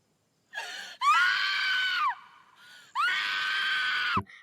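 A loud, high-pitched scream rings out in two long, strained bursts separated by a short wavering gap, close and intense.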